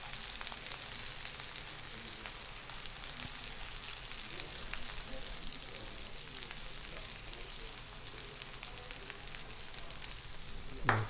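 A steak sears in butter in a hot pan with a dense, constant sizzle at close range that holds evenly throughout, ending with a sharp metallic clank.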